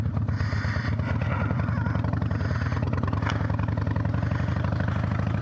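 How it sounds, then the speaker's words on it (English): A 2000 Harley-Davidson Dyna with 525 cams runs on a dyno, its engine holding a loud, steady, lumpy rhythmic rumble with a mechanical clatter throughout, close up and uninterrupted. "First ride on the dyno with this tune and the new cams"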